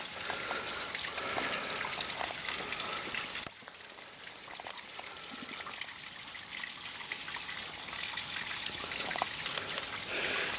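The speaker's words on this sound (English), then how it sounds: "the more you look, the more water you can see running down" Water trickling and running down a cliff face on the coast at Watchet, a steady close-up dribbling wash with a soft outdoor background, no voices.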